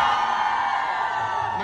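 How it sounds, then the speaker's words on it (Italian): A concert crowd yells and cheers on cue, a sustained loud roar of many voices filling the whole short stretch without a break. "Fate tipo, non so, un urlo."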